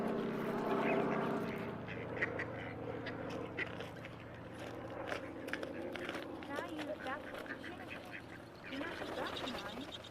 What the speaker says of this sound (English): So Shayna and Maui fed these like 10 ducks some food, and they must have made a call to the rest